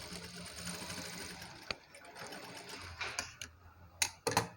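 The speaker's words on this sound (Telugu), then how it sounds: "దీనికి ఇలా పెట్టేసి ఒక కుట్టు వేసేయాలి" A sewing machine runs a short burst of stitching on hanging dori work, giving a soft, even mechanical whir that fades out, followed by a few sharp clicks and knocks near the end.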